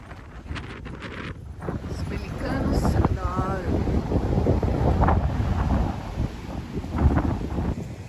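Wind gusting along a busy beach promenade by the sea, a steady loud roar buffeting the microphone, with people talking faintly underneath.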